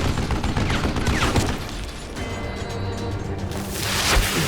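Video game gunfire crackles in dense, rapid bursts, loud and close with crashing impacts, easing briefly in the middle before flaring up again; no one speaks.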